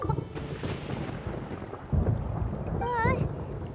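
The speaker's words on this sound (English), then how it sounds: "Paimon hears thunder!" Deep rolling thunder rumbles through a stormy Genshin Impact game scene, with a wind-like wash and a brief chiming game effect near the end. A voice speaks over part of it.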